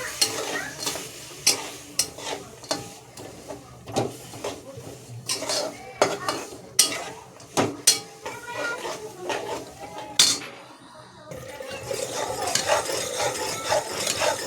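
Jaggery melting in a little water in a pan for sesame laddoos, stirred with a spoon that scrapes and clinks sharply against the metal in irregular strokes over a soft sizzle, then a steadier bubbling simmer near the end.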